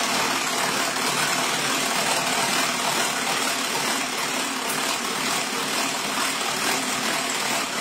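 A Tupperware Speedy Chef mixer running at speed 1 churns whole cream with 35% fat, giving off a loud, steady whirring drone that holds without a break from start to finish.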